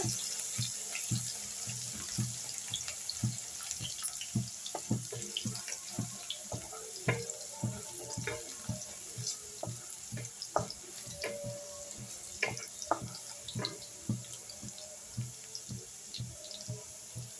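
Crushed garlic sizzles in hot oil in a pan while mutton dry is cooked, a steady crackling hiss dotted with sharp pops and spits throughout, close and fairly loud, with no voices.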